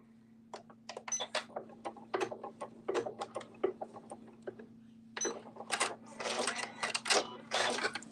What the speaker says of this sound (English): I'm going to stop stitching right at the basting stitch again